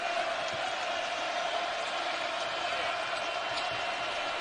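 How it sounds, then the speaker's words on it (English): A basketball arena crowd at a Kentucky vs LSU game, on its feet and screaming: a steady, dense roar that carries on without a break, heard from a distance. "And now a crowd that is on its feet and screaming."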